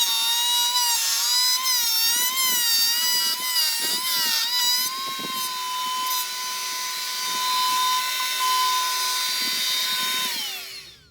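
Router table cutting wooden cockpit trim for a Catalina 30 sailboat, following a template for the outer profile; a loud, continuous high whine with brief chattering bites into the wood, then spinning down at the end.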